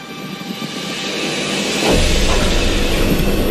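A loud rushing, rumbling roar of a roller coaster train picking up speed on its track, swelling sharply partway through and staying heavy to the end.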